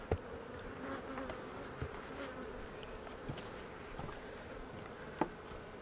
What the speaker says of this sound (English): Bunch of bees on the lid.